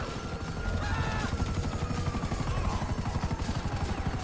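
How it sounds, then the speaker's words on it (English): Helicopter in Grand Theft Auto V during a raid on a government building, its rotor beating in a steady, loud low thump throughout, with faint whining tones and distant crashes over it and no voices. "We gotta take out the chopper."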